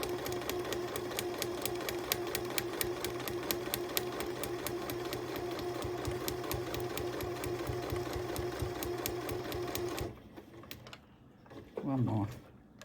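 A sewing machine stitches a long foundation-piecing line on a butterfly quilt block with a steady, rapid mechanical chatter for about ten seconds, then stops; a voice speaks briefly near the end.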